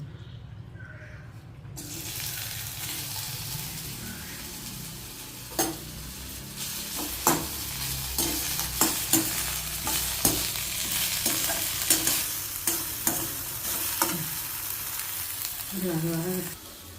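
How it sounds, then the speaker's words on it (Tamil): Okra sizzles steadily in a hot pan while a utensil scrapes and taps against it repeatedly, with a short voice near the end. "முத வதக்கிக்கிறணும் வெண்டைக்காய்"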